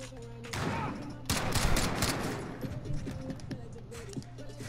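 Rapid gunfire from the video game Call of Duty: Modern Warfare crackles loudly in dense, overlapping bursts, with excited players' voices talking over the shooting.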